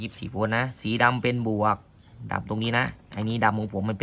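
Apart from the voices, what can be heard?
No everyday noise stands out behind the speech.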